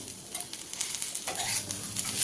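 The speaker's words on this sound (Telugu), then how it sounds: "సన్నగా పొడవుగా కట్ చేయడం వల్ల క్యాప్సికమ్ బాగా వేగుతుందండి" Thin, long capsicum strips frying in a pan for a capsicum chutney, a close steady sizzle with a few stirring scrapes, growing slightly louder toward the end.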